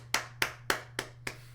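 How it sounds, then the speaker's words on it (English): Five sharp, evenly spaced claps ring out close by, a slow, sparse round of hand clapping with a steady low hum underneath and no talking. "give him a round of applause"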